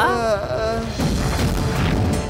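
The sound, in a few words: bomb explosion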